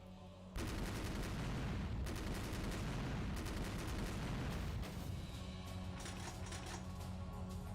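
Sustained gunfire in the game Rose Guns Days forms a dense, loud, continuous barrage that starts abruptly and runs unbroken, with rapid shots piling together.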